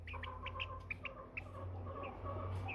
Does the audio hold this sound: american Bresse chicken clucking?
yes